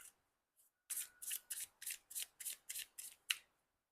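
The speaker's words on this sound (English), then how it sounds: "I'll just shuffle the cards" Tarot cards being shuffled by hand in a quiet room, a run of about nine crisp, evenly spaced riffling bursts after a couple of faint taps, close and soft.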